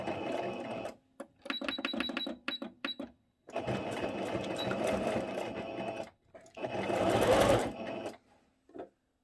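A sewing machine stitching elastic into a fitted sheet, running in several bursts of rapid mechanical clatter separated by short pauses, close and fairly quiet, with a brief click near the end.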